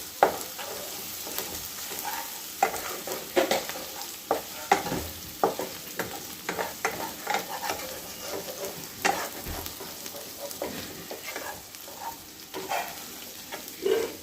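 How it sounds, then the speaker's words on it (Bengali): An egg frying in a pan sizzles steadily up close, broken by repeated spatula scrapes and taps against the pan. "একটু ভাজা ভাজা হোক।"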